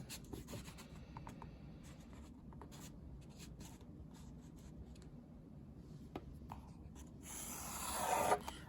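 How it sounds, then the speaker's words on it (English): A pen drawing straight lines on paper along the edge of a notebook, heard as soft, close scratchy strokes repeating in short runs, with a louder rubbing burst near the end. "you can use a notebook, anything that's straight, and then you're just going to draw your lines"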